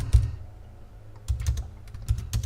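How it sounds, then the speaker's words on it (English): Short bursts of keystrokes on a computer keyboard as a reply is typed, a quick cluster of taps, a pause, then two more flurries of clicking, close and quiet with no talking. "I'm gonna type something like"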